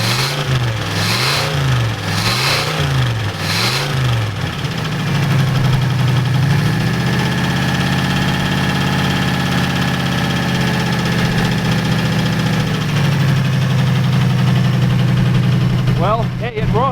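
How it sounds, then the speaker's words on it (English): Old Oldsmobile Cutlass that sat abandoned for 15 years, running with a loud internal engine noise, a steady close idle that rises in pitch as the engine revs up, holds, then settles back to idle. "You can hear how loud the motor is. Hear that? That is not a good sound."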